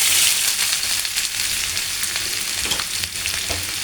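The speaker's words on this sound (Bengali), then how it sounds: "আমি এখন কিছুটা পেঁয়াজ ভাজিয়ে রাখবো।" Onions sizzle steadily in a hot pan while being fried for a katla fish dish, a close, continuous crackle with light stirring scrapes and no voices.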